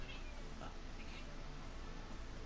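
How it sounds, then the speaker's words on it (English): A pet cat meows a few short times in the background of a room, faint and partly masked by steady noise. "And my cat's meowing again."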